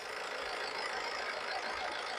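A Honda Amaze petrol car engine idling steadily with broad, even rumble and hiss, constant in level throughout, mixed with noisy machinery in the background.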